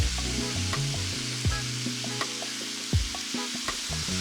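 Sliced mushrooms and chopped thyme sizzle and crackle in a fry pan while being stirred, with scraping and clinking of the utensil against the pan over a steady fry, with no talking.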